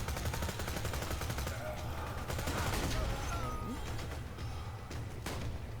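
Bandit submachine gun fire in Borderlands 2, set in Lynchwood: rapid, continuous bursts of automatic shots with explosions and game effects layered over a busy, moderately quiet mix.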